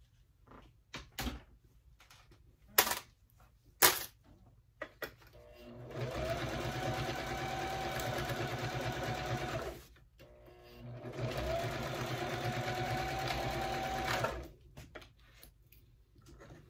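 A sewing machine stitches a bag seam in two steady runs of a few seconds each, a fast even whirring hum, with scattered clicks and knocks of handling before and between runs.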